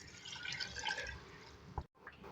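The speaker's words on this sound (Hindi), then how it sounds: "इसमें जो है हम पानी ऐड करेंगे," Water being added to rice in a pot for aloo pulao, a soft close trickling and splashing pour that stops abruptly near the end, followed by a faint drip or two.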